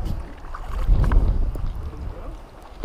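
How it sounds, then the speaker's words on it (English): Low, rumbling wind buffets the microphone on a beach while surf fishing at Rehoboth Beach, swelling in the middle of a short stretch and easing toward the end. "Got more wind."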